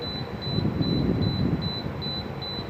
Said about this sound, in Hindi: ये इसका हार्न जो है ना ये बीप के दे रहा है